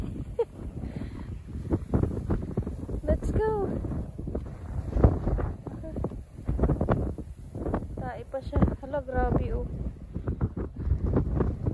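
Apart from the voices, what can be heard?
strong wind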